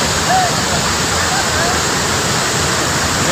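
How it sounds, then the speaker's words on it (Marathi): Heavy falling water at the Rautwadi waterfall, Dajipur, keeps up a constant loud rush while faint voices of people talking come through beneath it. "पाणी पडतं तिथं"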